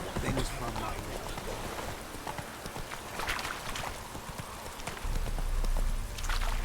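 Roach, the horse in The Witcher 3, gallops with a steady rush of hoofbeats blended into dense game ambience, rising louder near the end, while voices talk over it.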